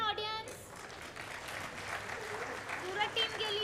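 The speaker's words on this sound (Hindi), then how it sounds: "सूरत टीम के लिए तो तालियां बजानी बनती है।" A crowd at a stage event applauds a team, a steady wash of clapping filling the whole stretch while a voice speaks faintly over it.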